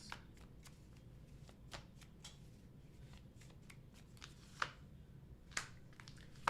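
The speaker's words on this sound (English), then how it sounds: "3 shuffles." A deck of tarot cards is shuffled close by in a quiet room, giving soft, repeated riffling and slapping with a few sharper snaps near the end.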